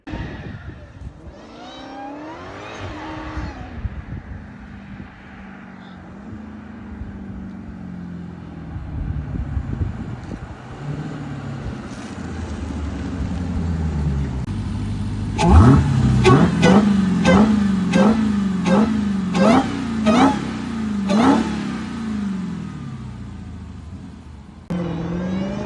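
A Dodge Challenger Redeye fitted with a loud Hellcat intake revs up: a deep rumbling idle climbs and swells, then a series of sharp, loud throttle blips with a rising whine, close by.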